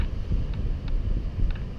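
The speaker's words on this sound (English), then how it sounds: "It just sounds bad because the sea is very noisy." Wind and heavy surf roar along the Eyre Peninsula west coast in South Australia, a dense low rumble with faint higher gusty flutters, steady throughout the short stretch.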